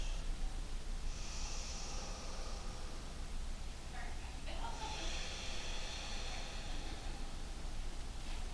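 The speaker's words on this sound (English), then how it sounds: "Big breaths in, big breaths out." Deep, slow breathing during a seated yoga twist: two long airy breaths, one in and one out, heard close against a steady hiss of background noise.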